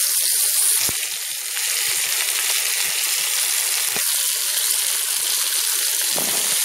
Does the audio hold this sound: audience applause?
no